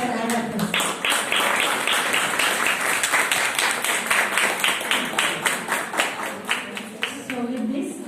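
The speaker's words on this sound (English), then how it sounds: "A big round of applause for all of us." Participants at the close of a training programme applaud together, a crowd of hands clapping loud and dense at first, then settling into rhythmic, partly unison claps, with voices mixed in.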